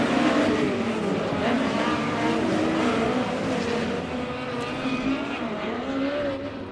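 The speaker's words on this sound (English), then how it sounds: "Hannah Adair railing the top side of the racetrack down the back straightaway" POWRi West midget race cars at Airport Raceway, a dirt oval, roaring loudly at high revs with a continuous engine drone and pitch shifts, under an announcer's commentary.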